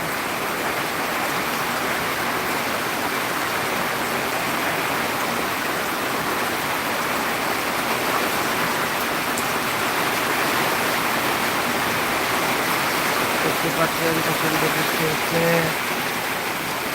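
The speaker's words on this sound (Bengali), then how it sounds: "দেখেন প্রচণ্ড পরিমাণ বৃষ্টি হচ্ছে" Heavy rain falling steadily, a loud, dense, unbroken roar of water pouring down around a covered veranda, constant throughout with no letup.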